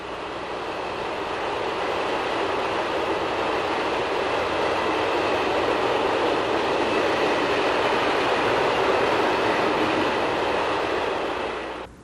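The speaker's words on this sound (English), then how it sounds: "These have a heavy electric locomotive at the head, in this case a 1600 class, and 2 2200 class diesels" A heavy ore train hauled by a 1600 class electric locomotive and two 2200 class diesels rumbles steadily past in Holland, a loud continuous roar of wheels and engines that holds for the whole stretch and cuts off abruptly at the end.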